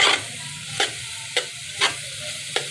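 Flaxseed roasting in ghee and white oil over a low flame gives a steady close sizzle, broken by several sharp scraping stirs spaced about half a second apart.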